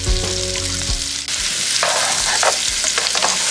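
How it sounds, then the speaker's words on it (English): Sliced zucchini and squash saute in a hot pan, a loud, dense sizzle filling the space, broken by a few scraping stirs and small crackles close by. "Let's add in our zucchini and our squash. We're just going to saute it."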